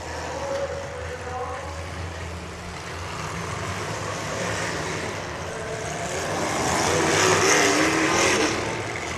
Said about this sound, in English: Motor sounds good in that car too.